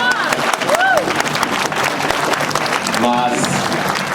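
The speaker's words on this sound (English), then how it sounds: "applause is appropriate." Audience applause at the 45th annual Manzanar Pilgrimage ceremony in 2014: a steady wash of crowd clapping fills the whole stretch, with a speaker's voice carrying over it.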